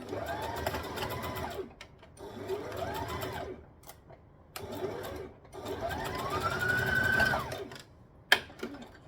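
A sewing machine stitching along the edge of a dress, running in several sustained bursts with short pauses between, its motor whine rising and falling, close and clear with a sharp click near the end.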